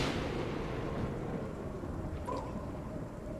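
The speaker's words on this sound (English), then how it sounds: "Crashing of lightning on command." A deep, rolling thunderclap that breaks loud at once and then rumbles on steadily, fading only slightly, with no voices.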